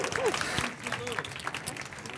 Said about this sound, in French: ça veut dire on peut applaudir les deux équipes